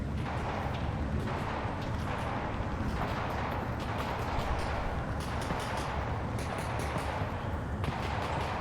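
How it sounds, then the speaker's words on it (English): Relentless gunfire in the VR shooter Half-Life: Alyx, a dense and continuous barrage of overlapping shots and booming blasts that never lets up, with no voices over it. "A lot of shooting."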